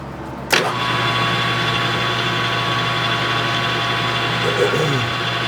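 An engine fitted with a Kerzel air fuel mixer catches and runs at a loud, steady, raised speed close by, holding a constant drone throughout.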